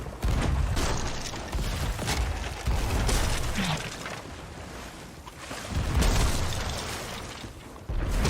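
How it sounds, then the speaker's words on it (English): Sea of Thieves ship ramming a galleon: dense, sustained crashing and creaking with heavy low rumbles, swelling in bursts of impact noise over continuous ocean and battle clamor, loud and close throughout. "Okay, so they've now made the ram."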